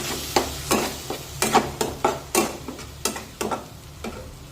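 A spoon scrapes and stirs spice masala with a little water in a kadhai in quick repeated strokes over a soft sizzle of frying, close and fairly loud.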